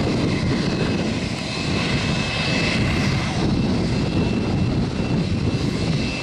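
Aircraft engine roar at Salvador airport during heavy rain and busy landings and takeoffs, a loud steady broadband rumble held throughout with no speech.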